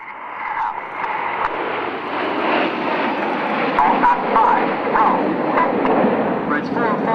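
Red Arrows jets in tight formation roar past at about 400 mph during an anniversary air display, a loud continuous engine rush that swells and fades, with a commentator talking over it.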